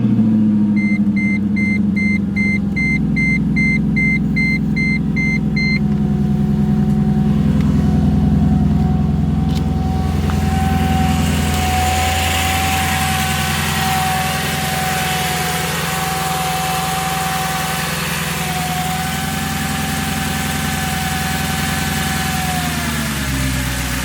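A Mercedes CLK55/C55 AMG is cold-started in freezing weather. It cranks, then settles into a steady, close, loud idle that stays high and even for the rest of the stretch, with no talk.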